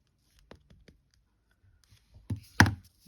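Scissors snip out silver heat-embossed card pieces: a few faint, sparse clicks, then two louder, sharper close cuts near the end in an otherwise quiet room.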